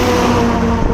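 A borehole-drilling truck carrying machinery on top rumbles past nearby in a short burst of steady, loud engine and road noise, with no voices.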